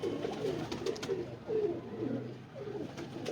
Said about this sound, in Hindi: लोग इन्हें अली वाले कबूतर कहते हैं